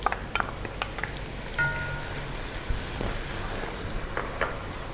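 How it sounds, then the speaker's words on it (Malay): Onions sizzle in hot oil for a madras fish curry, a soft steady frying hiss with a few faint clicks and taps, continuous and moderately close. "Tumis bawang."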